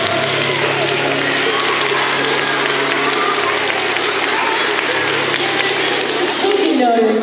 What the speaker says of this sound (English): One more round of applause for grades 3 through 5.